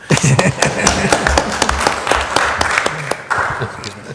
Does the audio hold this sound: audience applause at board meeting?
yes